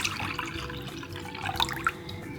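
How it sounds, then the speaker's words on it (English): Pickle juice pours into buttermilk brine, a close, splashing liquid stream with small drips and gurgles that carries on for a couple of seconds without any talking. "Then we're going to pour in our pickle juice."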